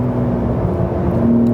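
A Porsche 911 of the 992 generation pulling hard on the Circuit Ricardo Tormo near Valencia, a loud steady engine drone with a strong low hum that rises slightly near the end.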